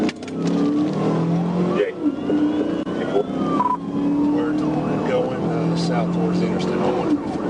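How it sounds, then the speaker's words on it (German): A Honda Accord speeds during a police chase, its engine droning and whining continuously with passing-traffic swooshes, heard from a dashcam under steady narration. "Je länger die Verfolgungsjagd dauerte, desto schneller wurde der Honda Accord."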